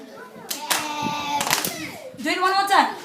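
Children in a phonics lesson clapping out the sounds of a word, a few sharp claps alternating with a teacher's and children's speaking voices close by.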